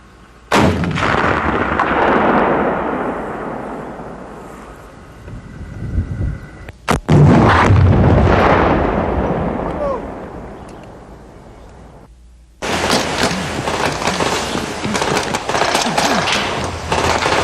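An M72 rocket launcher fires in a sudden sharp blast that rolls into a long booming echo, followed by a second loud crack and rumbling decay, then a dense roar of noise, all loud and without talk.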